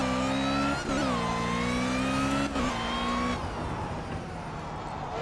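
An Ariel Atom race car in Project CARS at Silverstone: its engine drones loudly and steadily, rising in pitch through the gears with a few brief dips at shifts, alone and close throughout.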